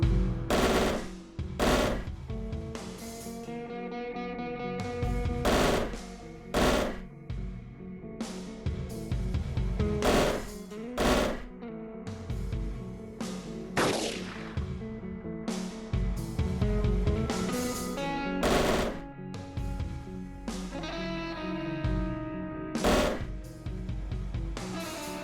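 Sharp, loud bursts of pistol fire in a sci-fi strategy video game, with single and rapid shots repeating irregularly over a steady electronic game backdrop.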